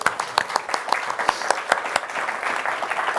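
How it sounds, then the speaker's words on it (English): Applause from a seminar audience at a whisky tasting event, with distinct individual claps forming a moderately dense, steady patter that continues for the whole stretch. "please give a round of applause."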